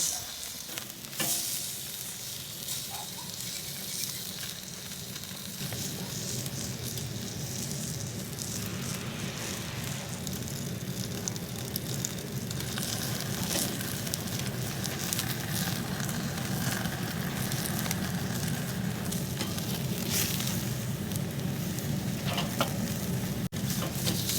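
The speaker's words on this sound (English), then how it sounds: "See that fat starting to bubble? That's why these flames are starting to kick up." Beef fat bubbling and flaring over the flames of a grill while pit beef cooks, a steady, close crackling sizzle with hissing fire that keeps on without a break.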